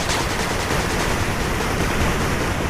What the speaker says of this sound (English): Machine gun turret under attack.